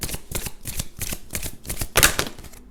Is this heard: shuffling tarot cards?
yes